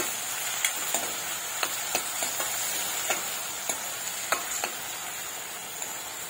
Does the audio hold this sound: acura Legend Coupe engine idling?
no